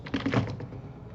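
A quick burst of computer keyboard typing, several close soft key clicks in rapid succession over about a second.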